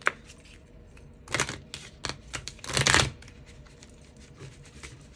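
A deck of oracle cards is shuffled by hand: scattered riffling bursts and quick flutters, loudest in two dense clusters, close and without speech.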